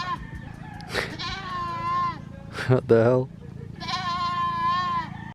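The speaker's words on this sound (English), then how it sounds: "Guys, we got a mad goat, crazy goat on the loose." A loose goat on the Gigantes Islands in the Philippines bleats loudly and nearby in several long, wavering calls, and a person speaks briefly between them.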